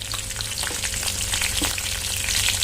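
Green chili and curry leaves frying in hot oil for a raw tomato chutney, a steady dense sizzle with crackling pops running loud and close throughout, no voices.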